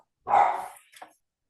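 A puppy gives one close, sharp bark followed by a quick, softer yip, loud and alone against a silent background.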